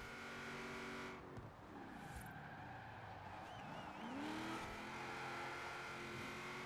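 A racing car in Forza Horizon 4 driven with a Logitech G920 wheel: a steady engine drone, with the revs dropping as the car slows, then climbing and swelling again, plus brief tire squeal.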